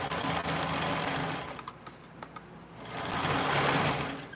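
A sewing machine runs steadily as it back stitches along the seam of a lining. The motor's whir is loud and continuous, dips briefly in the middle, then picks up again, with no talking.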